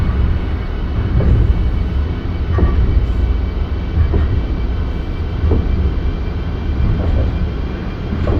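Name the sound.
Acela Express train running, from Microsoft Train Simulator video game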